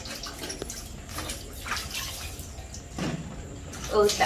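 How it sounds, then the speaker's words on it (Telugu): Vegetables, okra and wild gherkins, are washed clean in a vessel of water, with splashing and sloshing bursts and running-water sounds close by, irregular and moderately loud. "బాగా శుభ్రంగా కడిగేసి"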